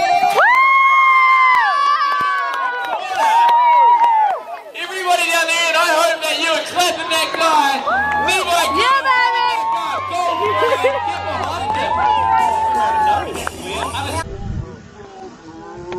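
A large crowd at the Fire Jam mountain bike event cheers and screams loudly and continuously, with high shouts rising and falling and a deep rumble joining partway through.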